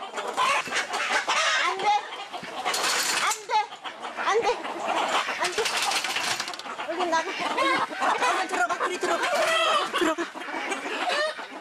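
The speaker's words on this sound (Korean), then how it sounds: "격리장에서 탈출한 수탉이 또 암탉을 못 살게 굴었군요." An escaped rooster chasing hens on a farm sets off loud, agitated clucking and squawking from several chickens, continuous and close throughout with sharp bursts.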